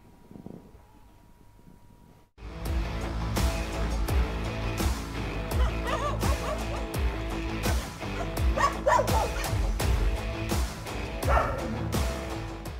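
Stray dogs in Madhya Pradesh bark and yip in a loud, continuous chorus, with overlapping barks and whimpers close by after a brief quiet opening.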